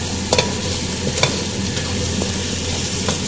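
Chickpeas frying with ground spices and black pepper in a pan, stirred steadily with a spoon, giving a constant close sizzle broken by a few sharp scraping clicks.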